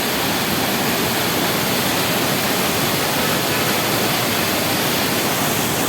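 Monsoon water streams down the rocks of a rock garden in a dense, unbroken rushing roar that stays loud and even throughout.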